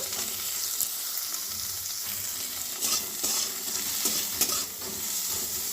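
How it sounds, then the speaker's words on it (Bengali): Cauliflower pieces frying in a pan with oil, a steady close sizzle running throughout with occasional louder crackles and stirring scrapes, no voices. "দেখুন ফুলকুলিটা প্রায় ভাজা হয়েছে"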